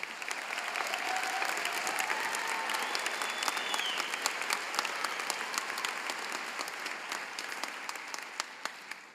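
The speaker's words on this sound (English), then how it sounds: "please give our graduates a round of applause, please" An audience at a university School of Public Health spring commencement ceremony applauding its graduates, steady dense clapping from a large crowd that fills the room and tapers slightly at the end.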